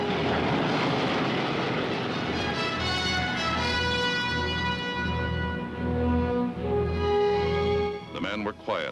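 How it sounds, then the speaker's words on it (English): Piston engines of WWII bomber fleets drone steadily over the English Channel, a low continuous rumble throughout with a narrator speaking over it. "Hour after hour, our passing bomber fleets filled the Channel skies."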